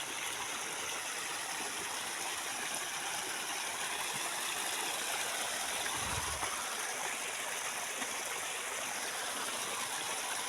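A clear flowing stream rushes steadily and evenly, a close, continuous watery hiss with one brief low splash midway as it is waded across.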